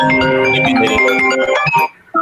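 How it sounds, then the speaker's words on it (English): A mobile phone ringtone goes off loudly and close, a bright melodic tone pattern playing continuously before cutting off near the end. "Looks like Jay's phone just went off"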